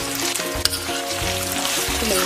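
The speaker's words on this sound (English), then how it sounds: "Stir this around for about 30 seconds." Saltfish, onion, sweet red pepper and a sprig of thyme sautéing in a pan, a loud continuous sizzle and crackle up close with occasional stirring clinks, no voices.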